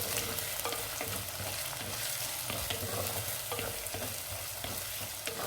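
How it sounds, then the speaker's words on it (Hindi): Onion, garlic and ginger frying in oil for masala mutton liver, a steady close sizzle with occasional stirring scrapes and no talk. "ये देखें प्याज लहसुन अदरक साथ भून रहा है।"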